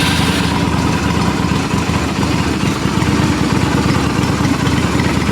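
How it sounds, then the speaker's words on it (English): A cold Yamaha XV250 motorcycle engine, under restoration in a shed, runs steadily at a loud, even idle for the whole stretch, its low rumble continuous and close. "Let's hit the starter."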